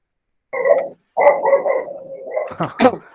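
A dog barks loudly and close in several sharp barks, a single bark then a quick run of barks ending in yips, heard during an online Arabic language class.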